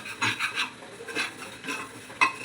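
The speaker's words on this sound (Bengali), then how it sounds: "ভালো করে ভেজে নিতে হবে" Broken wheat (dalia) being fried in ghee and stirred in a pan, a spoon scraping and rasping against the pan in short repeated strokes, close and clear, with no talk.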